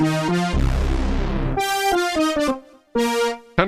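Roland D-50 synthesizer playing a powerful, bright digital lead patch, with punchy staccato notes, a deep growling low swell, and stepping melodic phrases with brassy upper tones, separated by brief gaps and no speech.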